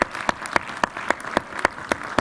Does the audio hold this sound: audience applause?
yes